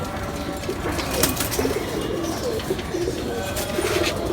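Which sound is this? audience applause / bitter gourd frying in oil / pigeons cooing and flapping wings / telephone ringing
pigeons cooing and flapping wings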